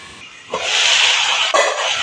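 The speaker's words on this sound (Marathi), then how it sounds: "अशी छान वाफ आली आहे बघा" Steam hissing and sputtering from a covered pan of sautéed tondli (ivy gourd) on the stove, a close, broad hiss that swells suddenly and then jumps again a second later.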